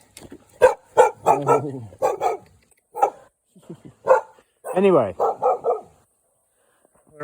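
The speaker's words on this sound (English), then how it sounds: "Oh, you're the guard dog." A guard dog barks in loud, close bursts, some single and some in quick runs, while someone talks in between.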